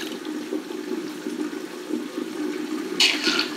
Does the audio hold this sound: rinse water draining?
yes